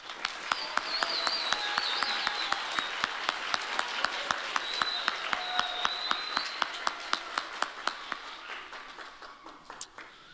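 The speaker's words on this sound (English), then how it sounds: "If you'll join me in giving them a round of applause." Audience applause after a school spring band concert by junior high and middle school players: steady, dense clapping that fills the room for about ten seconds, then thins and fades at the end.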